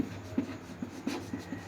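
Chalk or a marker taps and scratches across a board in quick, rhythmic strokes during a Hindi-medium math lesson, faint and close, with no talking.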